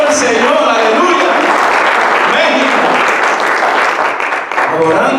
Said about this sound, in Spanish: Dale fuertes aplausos que vive.